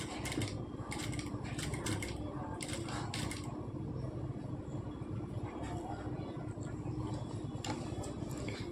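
A sewing machine stitches blouse fabric with a steady, fast mechanical whir and rattle that runs continuously and close by, with light clicks over it and no clear talking.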